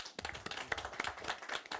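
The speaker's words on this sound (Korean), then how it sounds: "큰 박수 부탁드립니다." Clapping from a seminar audience at a Korean science and technology policy forum, a fairly quiet, uneven patter of hands that rises and dips through the short stretch.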